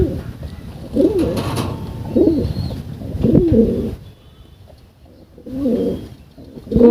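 Pigeons of the Simi breed coo repeatedly at a pigeon farm in Rajshahi, with several low, throaty rolling calls rising and falling close by, separated by brief quiet gaps.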